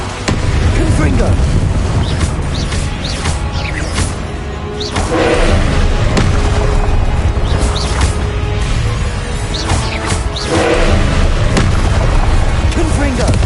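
Repeated Confringo spell blasts in Hogwarts Legacy, loud booming explosions that come in several waves, each with a sharp burst and low rumble, over dense game sound that also carries voices.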